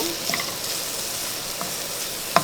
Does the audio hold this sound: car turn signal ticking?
no